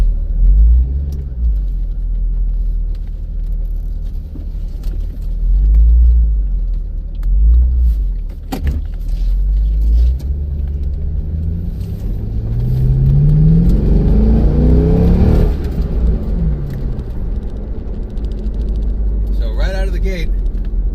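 C5 Corvette V8 pulling away, a deep rumbling engine with pulsing revs and a rising acceleration sweep, heard close up with someone talking over it.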